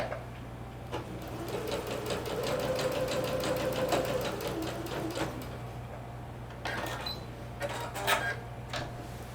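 A home sewing machine running a long basting stitch along a skirt, its needle chattering in rapid, even bursts with short pauses and a few clicks as the fabric is adjusted.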